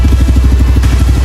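A DIY Amazon ATV four-wheeler engine idles on 91 gasoline, a loud, close, even low chugging pulse with a rattly edge, steady for the whole short stretch.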